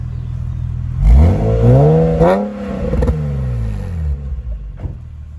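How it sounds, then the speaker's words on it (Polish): A cold Nissan 370Z NISMO engine revs up sharply, its pitch climbing and falling through a couple of throttle blips before settling back to idle, loud and close. "dam trochę gazu, zobaczymy jak chodzi"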